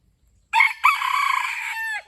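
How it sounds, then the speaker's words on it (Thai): A single loud, nearby crow from a Malaysian junglefowl rooster, a brief opening note followed by a long, wavering call that cuts off sharply, heard alone. "เป็นไก่ป่าพันธุ์มาเลเซีย"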